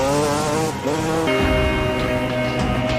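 A trail motorcycle engine revs loudly and steadily in a zombie film, its pitch shifting up and down through gear changes over continuous road noise.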